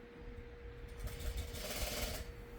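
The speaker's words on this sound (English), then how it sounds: "So I'm going to sew these together, straight down, and make sure they're lined up." A sewing machine runs in a short, steady burst, stitching pre-cut quilt fabric pieces together straight down a seam, quiet and close with no talking.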